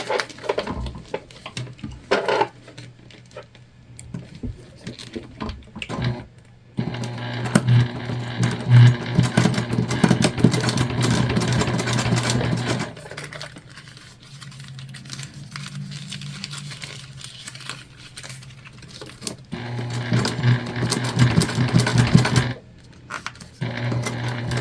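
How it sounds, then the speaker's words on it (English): A sewing machine topstitching clear jelly vinyl, running in bursts of steady whirring stitches with pauses and small handling clatter between runs. "we're just gonna turn so that we can top stitch the other side"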